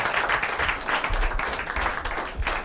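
Audience applause for a government minister at a Nigerian public event fills the space, a dense patter of many hands clapping with uneven surges, fairly close and sustained throughout.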